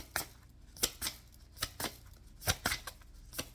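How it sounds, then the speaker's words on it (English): Cards being shuffled by hand, a series of crisp riffling bursts and soft slaps at an uneven rhythm, close up with no talking. "Bear with me through the shuffling"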